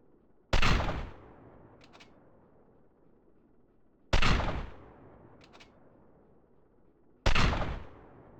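Three loud single gunshots from a GTA video game, spaced a few seconds apart, each a sharp crack followed by a decaying echo, with faint clicks between shots.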